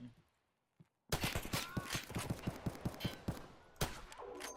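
Rapid volleys of gunfire from a DayZ match, a burst of sharp repeated shots after a near-silent opening, steady and fairly close, with loud impacts trailing off toward the end.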